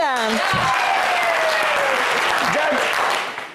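Audience applause at a French variety show, a broad wash of clapping filling the whole stretch, with a host's voice and music tones over it at the start, fading away at the end.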